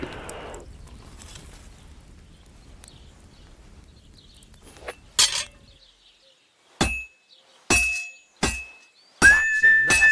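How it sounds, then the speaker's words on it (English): Sword blade hammered at a forge in the medieval game Kingdom Come Deliverance 2: a quiet stretch, then a series of sharp, ringing metallic strikes in an uneven rhythm, each followed by a brief decay. "When I hammer a piece to a beat, the work goes by easier."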